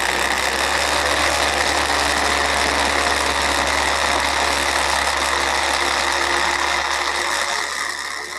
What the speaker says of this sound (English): Let's see if it gets better when I use the vortex mixer.